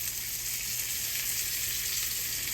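A garnish searing on a hot grill to mark it lightly, a steady even sizzle with a constant hiss throughout, fairly faint and with no voices.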